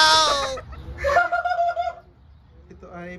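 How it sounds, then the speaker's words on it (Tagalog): A turkey at a zoo in Saudi Arabia calls with short gobbling, warbling bursts near the listener, separated by brief pauses. "Mayroon ang pabo dito."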